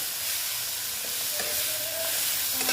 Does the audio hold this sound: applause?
no